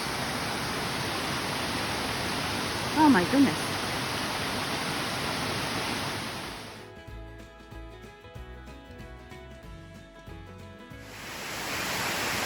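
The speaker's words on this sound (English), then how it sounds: "I think this is the last waterfall in this series." Waterfall in the Finger Lakes, a steady broadband rushing roar that drops away mid-clip, then returns; a voice briefly exclaims over it.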